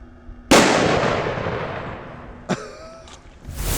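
A single sharp gunshot fired at a level 3A ballistic helmet, a loud close crack with a long echoing tail, followed by a smaller knock and faint metallic rattle.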